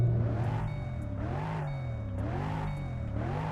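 A Mustang engine in the Roblox game Greenville revs three times in a row, each rising and falling in a smooth synthetic swell over a steady idle hum, with no talking.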